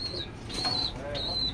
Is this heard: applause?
no